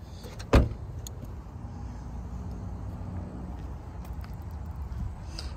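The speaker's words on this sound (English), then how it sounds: "Let's pop the trunk." A 2005 BMW Z4 2.5i roadster's trunk pops open with a single sharp mechanical clunk near the start, followed by a low steady idle-like rumble with no talking.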